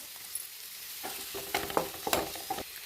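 Garlic, onion, curry leaves, tomato and vadagam fry in a little oil for a potato kara kuzhambu, with a soft steady sizzle broken by clustered spoon scrapes against the pan that grow busier toward the end.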